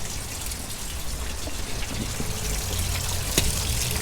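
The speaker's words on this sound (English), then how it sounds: "Alright, so pouring rain" Water from a garden hose pours into the cowl of a Toyota TE72 wagon, standing in for heavy rain: a steady, close rushing patter with no talk.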